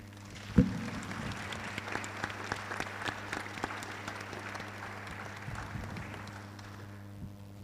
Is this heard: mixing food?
no